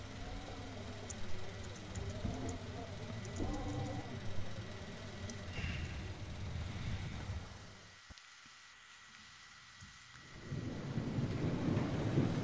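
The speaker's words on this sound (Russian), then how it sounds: "Дождь идет." Rain and rumbling thunder in the video game Dying Light, a steady downpour with deep low rolling rumbles, briefly dropping away to quiet before the heavy rain noise returns loudly.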